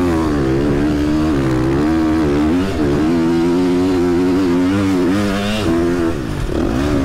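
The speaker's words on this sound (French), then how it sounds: "Yasser, ta moto va bien" A KTM motorcycle engine runs loud and close, its throttle revving up and down in repeated surges over a steady throaty drone.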